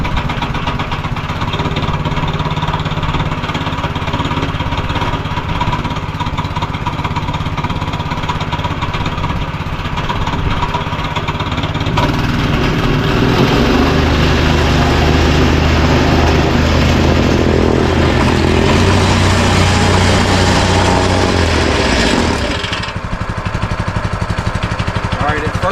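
Small gas engine of a Harbor Freight plate compactor running steadily and loudly up close, a constant droning rumble that shifts pitch and load partway through, with no talk over it.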